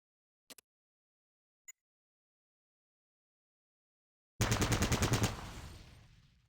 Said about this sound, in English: Target the dummy, and left-click to fire at it.